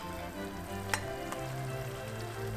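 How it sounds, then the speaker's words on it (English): Red peppers and garlic pieces cooking in a pan for pickling, a steady close sizzle and crackle throughout with a couple of light utensil taps. "I also added the garlic pieces while cooking the red peppers."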